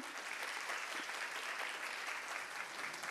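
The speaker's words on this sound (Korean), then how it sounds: "큰 박수로 환영해 주시기 바랍니다." An audience at a conference claps in steady, sustained applause to welcome a judge, heard without any voices over it.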